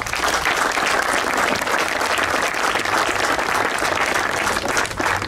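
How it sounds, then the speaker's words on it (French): Sustained, dense audience applause fills a prize-giving ceremony hall in Wattrelos, steady and loud from start to finish with no pause. "Vous pouvez les applaudir."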